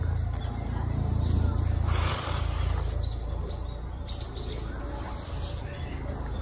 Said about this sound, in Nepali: चराहरूको आवाज सुन न पछाडि